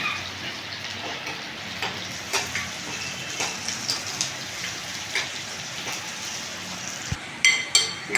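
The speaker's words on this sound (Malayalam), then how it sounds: "ഇപ്പോൾ എൻ്റെ ഉള്ളിയൊക്കെ നന്നായി സോട്ടായിട്ട് വന്നിട്ടുണ്ട്" Four small sliced onions sautéing in a pan for a curry, a steady soft crackling sizzle with scattered pops and a brief clatter near the end.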